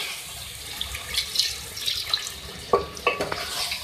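Water pours and splashes into a pot of Mughlai chicken masala being cooked, with a few sharper clinks and splashes near the end, close by and moderately loud.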